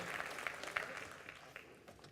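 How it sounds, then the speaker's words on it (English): Audience applause in a room, a sustained wash of many hands clapping at moderate, steady loudness for a couple of seconds, with no voices over it. "Can y'all give them a big round of applause?"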